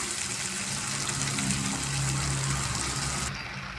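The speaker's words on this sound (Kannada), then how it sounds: "ಇದಕ್ಕೆ ಒಂದು ಗ್ಲಾಸ್ ನೀರು ಹಾಕೊಳ್ಳೋಣ" A glass of water is tipped into a pan of capsicum gravy, giving a steady rushing gush that runs for a few seconds and eases off at the end, close and with no talking.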